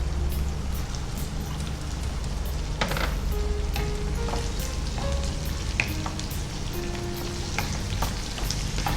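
Capsicum sizzling as it goes into a hot pan of oil for baby corn fried rice, a steady close frying hiss with light stirring clicks throughout and no talk.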